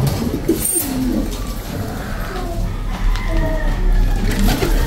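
Pigeons cooing on a farm among scattered nests, soft repeated coos layered over a steady low hum of background noise, fairly close and continuous throughout.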